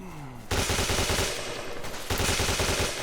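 Gunfire in the military shooter ArmA 2, with dense, loud bursts of rapid automatic fire that start abruptly after a brief quieter opening and carry on almost without a break.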